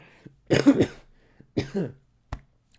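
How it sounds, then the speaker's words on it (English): A few short, sharp coughs brought on by spicy nuggets, close by, separated by brief pauses, with no talking. "sorry, I'm coughing because of the spicy nugs"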